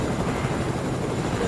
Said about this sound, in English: They're in the helicopter.